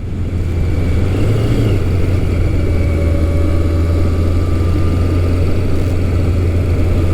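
A Yamaha FJ1200 motorcycle engine runs loud and close throughout, a steady low rumble with slight rises in revs, heard alone with no talking.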